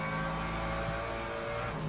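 A race car engine in the racing game Le Mans Ultimate drones steadily at high revs with tonal harmonics, continuous and loud throughout with no voices.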